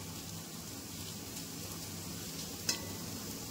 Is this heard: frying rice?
yes